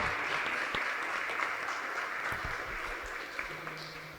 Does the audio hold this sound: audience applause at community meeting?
yes